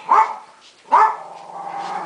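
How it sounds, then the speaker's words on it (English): A dog barks twice close by, two sharp yaps about a second apart, the second trailing into a sustained whining tone. "What you barking, Mooney?"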